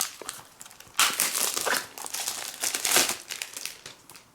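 Magic Trackpad 2 packaging being opened, with close crinkling and rustling of wrapping in irregular bursts for several seconds and no talk.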